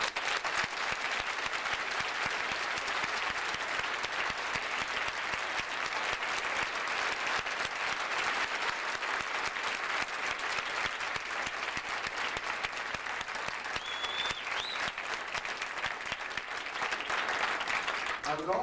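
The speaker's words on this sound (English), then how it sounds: "pause for a moment to applaud their monumental efforts" A graduation audience applauds the founders of a high school with dense, sustained clapping from a large crowd that holds steady at an even level, with a faint voice briefly rising above it.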